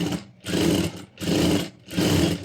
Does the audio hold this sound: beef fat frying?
no